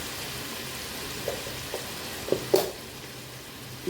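Potol sundori cooking in hot oil with salt in a pan, a soft steady sizzle with a few sharper pops and crackles near the end, close and fairly quiet, with no talking.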